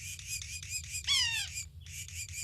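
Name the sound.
woodpecker squawk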